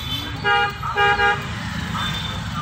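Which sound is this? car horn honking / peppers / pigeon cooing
car horn honking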